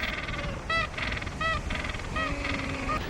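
Gentoo penguins at an Antarctic breeding colony give a few harsh, honking brays in quick succession, loud and close over a rough background of wind and colony noise.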